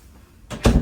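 An RV bathroom door in a 2025 Salem FSX 178BHSK travel trailer swings shut, a brief rush of movement followed by a solid close, near and fairly loud.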